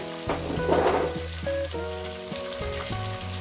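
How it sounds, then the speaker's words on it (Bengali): Fish sizzles and spatters in hot oil in a pan for a Bengali fish curry, with a louder burst of crackling early on, all under steady background music. "মাছগুলো আমার ভাজা হয়ে গেছে মাছগুলো আমি উঠিয়ে নিচ্ছি"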